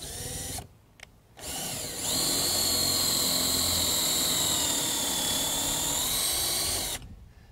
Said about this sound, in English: There's hole number one, drilled to the appropriate depth